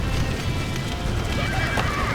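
A horse whinnies over the thud of galloping hooves in Red Dead Redemption on PS5, with busy game-like background noise throughout.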